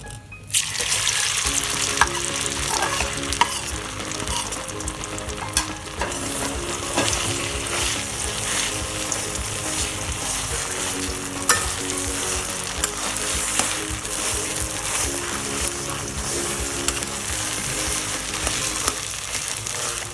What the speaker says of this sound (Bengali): একটু নেড়ে চেড়ে ম্যাশ করা আমলকিগুলো দিয়ে দিচ্ছি